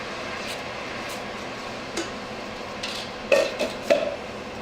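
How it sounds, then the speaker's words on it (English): A utensil scrapes and taps against a pot while a starch mixture is stirred, with a few sharp clinks standing out over a faint, steady background hiss. "So just stir that in nice and quick"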